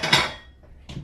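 A plate is pulled out and set down on a counter, making a short bright clatter followed by a second lighter clink about a second later.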